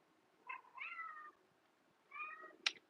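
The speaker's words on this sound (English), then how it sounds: "And if you hear the kitty cat, that is Squeaks squeaking around my feet." A pet cat meows twice near the microphone, each call drawn out and wavering, with a short sharp squeak after them in a quiet room.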